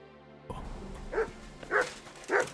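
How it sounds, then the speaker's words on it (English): A dog in Kingdom Come: Deliverance II barks three times in a steady, evenly spaced rhythm, close and moderately loud over quiet ambient background. "Good doggy. Good boy."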